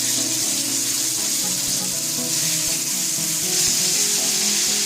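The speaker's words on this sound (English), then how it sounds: "To shallow fry the fish I have here about 2 to 3 tablespoons of oil heating up" Steady broadband sizzling of fish pieces shallow frying in a few tablespoons of hot oil over medium heat, continuous and fairly loud, with faint low clinks and thuds of utensils underneath.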